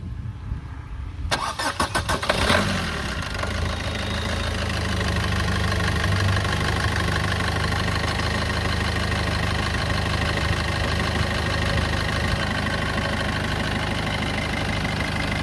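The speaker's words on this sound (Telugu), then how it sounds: "స్టార్ట్ చేసి చూపిస్తానండి మీకు ఇంజిన్ సైడ్ ఎలా ఉంది సౌండ్ అన్నది ఒకసారి మీరు గమనించండి" A Maruti Brezza diesel car engine cranks briefly, catches, and settles into a steady, rumbling idle that continues evenly to the end.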